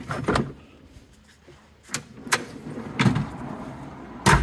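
Camper kitchen drawer in a Lexus LX470 Land Cruiser slides out and locks into place, giving a series of sharp clacks and knocks spaced irregularly, with quieter rattles and shuffling between them.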